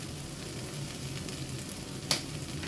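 Carrots sautéing in oil in a pan for thari biriyani give a steady, close sizzle and crackle throughout, with one brief sharp clink near the end.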